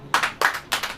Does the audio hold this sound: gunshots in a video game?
no